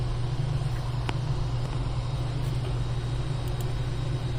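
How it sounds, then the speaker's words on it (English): Cooling fans of a Dell G5 SE gaming laptop running at maximum speed, a steady close whirring hum with a low droning band, constant throughout with a few faint clicks. "So right now the fans on this thing are on max"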